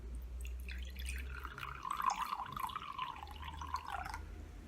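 Half a glass of water poured from a tap, a close, trickling stream with a rising, filling tone that runs for about three seconds before stopping.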